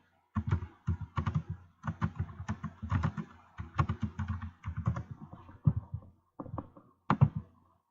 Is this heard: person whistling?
no